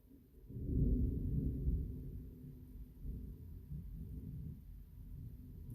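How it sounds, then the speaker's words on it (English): Distant thunder rolls in a low, faint rumble that swells early, then lingers and recurs softly, with no rain audible. "I don't hear any rain, but I hear lots of thunder"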